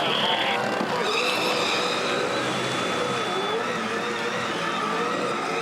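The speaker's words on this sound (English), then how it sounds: "He's wound the brake bias and he lights up those Dunlop hard tyres" Touring race car doing a burnout on Dunlop hard tyres after a race, a loud sustained engine roar and tyre screech amid crowd noise.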